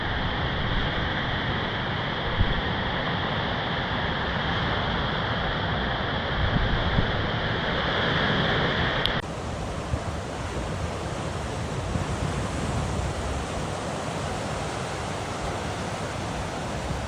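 Sea waves and wind on a Vietnamese coast, a dense continuous roar of surf close by, loud and unbroken, with an abrupt shift in tone partway through as the wind noise changes.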